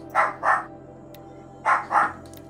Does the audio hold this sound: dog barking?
yes